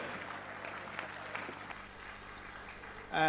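Audience applause at a ceremony honoring former CAF African Footballer of the Year Asamoah Gyan, a steady wash of crowd clapping with a few sharper claps, which swells louder at the very end.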